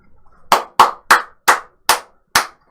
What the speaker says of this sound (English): I'm giving you a clap. Giving you a golf clap.